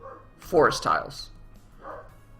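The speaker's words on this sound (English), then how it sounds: "You can hear the dog outside." A dog barking outdoors, distant and muffled, a few short barks under nearby speech.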